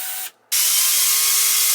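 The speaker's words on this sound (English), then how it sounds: "I'm going to be using the cutting wheel on a angle grinder" An angle grinder with a cutting wheel cuts a notch, giving a loud, steady high-pitched whine that stops briefly after a moment and then resumes without break.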